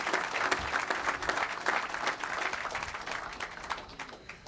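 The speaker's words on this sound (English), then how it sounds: "Let's give a round of applause for not only the captain, but from our all-volunteer honor guard" An audience at a veterans' nursing home dedication ceremony applauds a captain and a volunteer honor guard. The clapping is steady and fairly close, lasts the whole stretch, and there is no speech.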